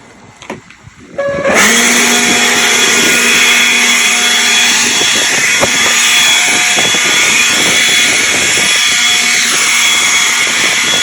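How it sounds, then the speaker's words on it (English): A Ryobi 18V One+ cordless jet blower kicks on after a brief quiet start, then runs at a loud, steady high-pitched whine with a strong airy rush and a few slight shifts in tone. "So let's get started and see how this blower performs."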